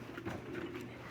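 Pigeons cooing steadily at a pigeon loft of the CRPC club in Dammam, Saudi Arabia, a soft low murmur that runs continuously through the moment with no other sounds standing out.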